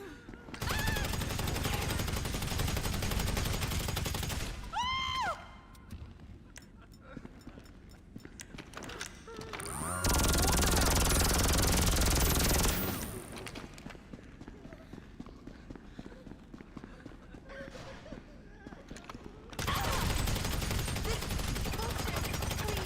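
Gunfire in GTA Online comes in loud dense bursts, a long rapid volley in the middle and shorter ones at the start and end, with game noise and speech between them.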